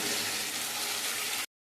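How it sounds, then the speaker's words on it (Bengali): Water pours into a pan of spiced potatoes being cooked down for a fish curry, a steady close rushing splash and hiss lasting about a second and a half before cutting off abruptly into silence. "এবার আমি জল দিয়ে দেবো, জল দিয়ে ভালো করে ফুটিয়ে নেব।"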